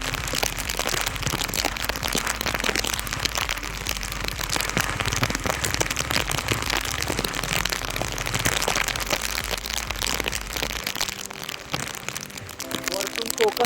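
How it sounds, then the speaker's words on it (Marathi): Heavy rain pouring down in Mahad, Raigad, in the Konkan, making a loud, dense, unbroken roar of drops on surfaces that lasts throughout and thins slightly near the end. "बट इथे महाड रायगडमध्ये जबरदस्त पाऊस पडतोय सकाळपासून."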